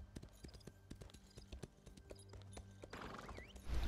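Horse hooves clop in The Elder Scrolls Online PvP, a quick run of hoof strikes at moderate level, with a brief whinny-like cry and a rising rush of battle noise toward the end.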